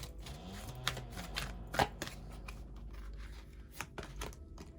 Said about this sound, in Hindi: और कार्ड्स लेते हैं।